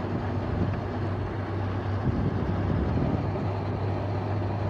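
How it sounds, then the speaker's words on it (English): An LG window air conditioner's fan runs as a steady, low humming whoosh with a constant drone, sounding close and continuous with no voices. "that's why the fan may take a while sometimes"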